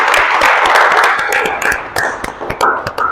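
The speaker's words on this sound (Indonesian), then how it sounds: "Oke, tepuk tangan dulu untuk kita semua." A classroom of students at a vocational automotive lesson claps together, a dense patter of hands that thins into scattered sharp claps toward the end, with faint voices mixed in.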